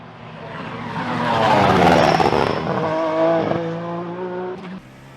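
Race car engines roar together at a race start in iRacing, swelling loud as the field launches, then settling into a high, steady whine with gear-shift dips and faint tyre noise.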